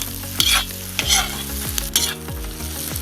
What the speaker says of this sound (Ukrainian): Овочі смажаться.